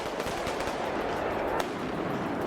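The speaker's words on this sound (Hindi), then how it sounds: "पुलिस को उन्हें काबू करने के लिए आंसू गैस के गोले और रबर की गोलियां दागनी पड़ी।" Rapid bursts of gunfire-like shots as police fire tear gas shells and rubber bullets at a crowd of protesting teachers, a dense continuous crackle with one sharper report near the end.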